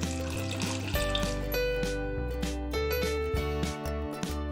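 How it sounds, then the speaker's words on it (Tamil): A little water is poured into a pot holding jaggery, making a light, steady trickle under prominent background music. "கொஞ்சமா தண்ணியை ஊத்திக்கலாம்."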